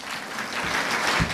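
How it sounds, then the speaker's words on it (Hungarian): Brief burst of audience applause at a community Advent event in a cultural centre: dense, steady clapping from a crowd, fairly loud and close, lasting just over a second. "Egy taps."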